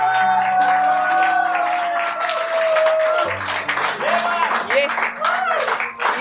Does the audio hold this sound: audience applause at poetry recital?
yes